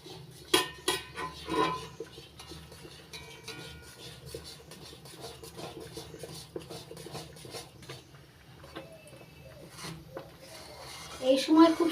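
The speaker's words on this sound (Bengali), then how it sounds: "এই দেখুন বন্ধুরা ছিটকে ছিটকে আসছে, সাবধানে নাড়তে হবে।" Raw mango barfi mixture bubbling and spattering in a pan while a utensil scrapes and clanks against the metal, with irregular knocks and scraping throughout and a louder burst of activity at the end; a voice talks over much of it.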